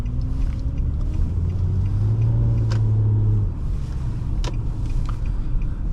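A 2011 Nissan Maxima SV with a CVT pulls away, giving a steady low cabin rumble and smooth engine drone with a rising tone partway through; no voices.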